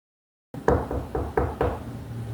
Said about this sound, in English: We had a knock at the door.